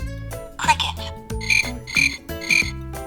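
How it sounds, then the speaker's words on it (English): Three short, shrill cricket chirps in an animal story for children, close and fairly loud, evenly spaced over a soft musical background. "That's a sound of a cricket."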